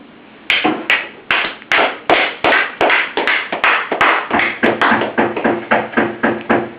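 Rapid knocking on a door, a steady run of loud, close, hollow raps that keeps going for several seconds with no voices over it.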